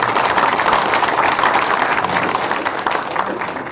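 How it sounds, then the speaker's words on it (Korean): Audience at a Democratic Party budget policy meeting in Gyeonggi Province claps for a newly appointed female vice governor, dense sustained applause filling the room throughout. "박수 한번 부탁드립니다"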